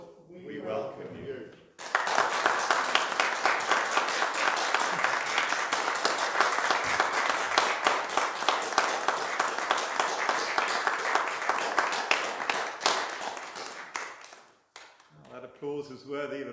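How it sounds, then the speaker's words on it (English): A church congregation applauds at a licensing service welcoming a new minister, steady dense clapping lasting about thirteen seconds and fading out, with a voice briefly speaking before and after. "Applause is worthy of a bigger congregation."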